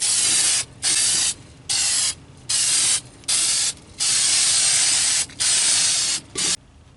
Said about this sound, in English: we're going to get everything covered with this Rust-Oleum rust reformer